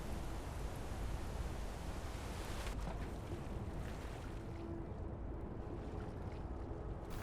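Rushing waterfall in the video game Skyrim as the character jumps down into the water below, a dense roaring wash of water noise with a sharp splash-like shift partway through, no talking.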